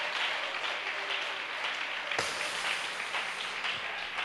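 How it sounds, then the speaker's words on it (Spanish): A church congregation at a Spanish-language service claps together, a loud, continuous wash of applause with a sharp thump partway through, lasting the whole stretch. "¿Alguien tiene libertad de dar un aplauso al Señor esta mañana?"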